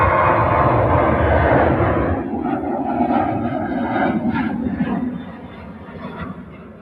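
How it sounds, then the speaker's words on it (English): A sixteen-year-old Ryanair Boeing 737-800 departs Manchester Airport for Dublin, its jet engines a loud, broad roar that slowly eases and fades into the distance. "It's going out to Dublin as this Ryanair Boeing 737-800."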